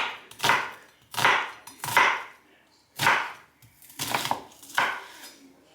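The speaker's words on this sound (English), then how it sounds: "I would dice the peppers and onions, but I don't like big chunks either" A knife dices peppers and onions on a cutting board, about seven firm, close chopping thuds in a loose, steady rhythm, fairly loud, with no talking.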